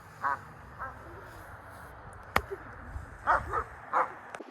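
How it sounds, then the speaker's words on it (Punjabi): A dog on a farm near Edmonton, Canada, gives a few short, fairly distant barks and yips in scattered pairs, faint against a quiet outdoor background with a sharp knock in between. "ਉਹ ਡੌਗ ਨਹੀਂ ਭੌਂਕਣੋਂ ਹਟਦਾ"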